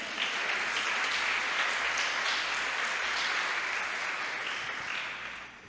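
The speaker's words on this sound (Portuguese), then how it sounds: "Dê um aplauso ao rei." A church congregation applauding, a dense steady wash of clapping that holds evenly and fades out near the end.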